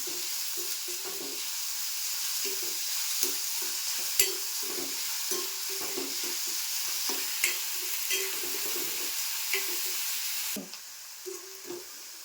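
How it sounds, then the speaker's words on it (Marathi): Finely chopped onion sautés in a pan until soft for a Malvani kaleji masala, a constant close sizzle broken by repeated scraping stirs of a spoon, easing slightly near the end. "कांदा मस्त असा व्यवस्थित परतून घ्यायचा, म्हणजे मऊ होईपर्यंत."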